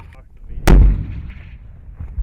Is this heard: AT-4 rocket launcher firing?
yes